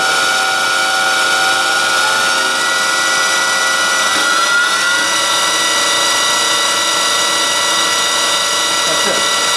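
Cutting oil pumps A and B on an Eldorado-Miroku MEG-300-2 twin spindle CNC gun drill, running together as a steady, loud, dense mechanical whine with layered tones, unbroken for the whole stretch.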